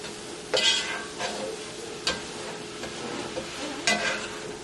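Cauliflower fried rice being stirred in a pot, several distinct scraping strokes against a soft background sizzle, close and fairly quiet, with no talk.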